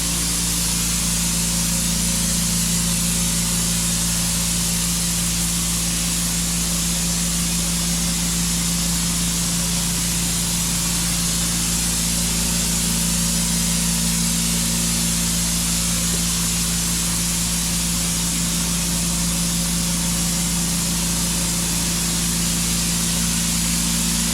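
Clorox electrostatic sprayer misting Vital Oxide onto a carpet, a loud, constant motorized hum with a steady hiss and low tonal drone, unbroken and close throughout, with no talk.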